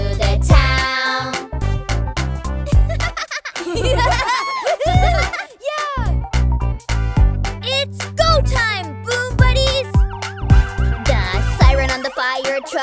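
A cartoon fire truck siren in a children's song, rising and falling over a bouncy musical backing, with sung voices joining in and imitating the wail.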